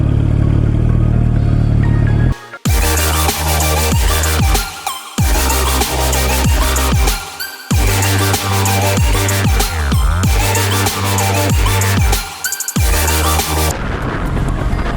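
A Ducati Monster 821 motorcycle on a test ride gives a loud, continuous engine roar that climbs and drops through repeated revs and gear changes, broken by brief gaps, with wind buffeting throughout.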